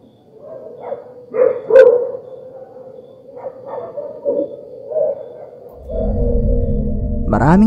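Dogs barking in the distance outdoors: scattered barks and yips rising and fading for several seconds, then a loud steady low hum takes over near the end.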